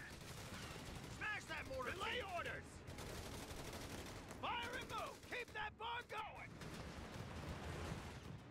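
Steady gunfire crackles across an infantry engagement in the strategy game Company of Heroes 3, a dense continuous battle din with bursts of shots and voices speaking over it throughout.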